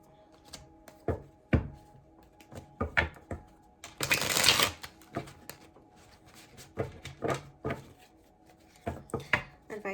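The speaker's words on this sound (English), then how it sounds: "Whoa, cards do not want to shuffle." A deck of tarot cards shuffled by hand with some resistance, a run of sharp close riffling taps and snaps with one longer dense burst of flicking in the middle.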